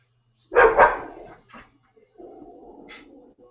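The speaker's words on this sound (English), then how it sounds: "my dog barking at the cat again." A dog barks at a cat, starting with two loud, sharp barks close by, then a lower, drawn-out growling whine, with no talking.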